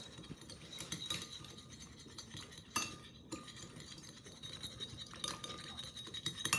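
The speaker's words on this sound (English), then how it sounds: "Okay, so I'm stirring that up." A spoon stirring salt into vinegar in a glass for a science experiment, a quiet, continuous scraping and swirling with occasional faint clinks against the sides.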